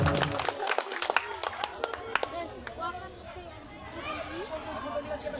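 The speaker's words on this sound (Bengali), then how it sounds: "আমি চাইবো যে সবাই আপনারা একবার জোরে হাততালি দিয়ে তার এই প্রচেষ্টাকে ধন্যবাদ জানান" An audience at a gathering for a local police station officer breaks into a short burst of scattered hand clapping that thins out as a voice talks over the crowd.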